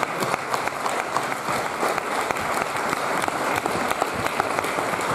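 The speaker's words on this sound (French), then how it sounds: "Je vais vous applaudir parce qu'ils ont été très précieux pendant le tournage du film." Steady applause from a festival screening audience, many hands clapping together in a dense, continuous patter that holds evenly throughout without pause.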